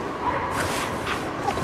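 Dogs barking and yipping in the video game Cryostasis, a few scattered yips over a steady, close ambient game soundscape, with no talking.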